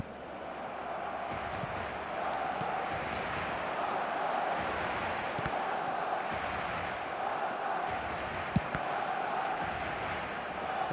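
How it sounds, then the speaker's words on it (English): A stadium crowd roars in the eFootball video game, a steady broad wash of cheering throughout with a brief sharp knock partway through. "the crowd level has gone up a notch or 10"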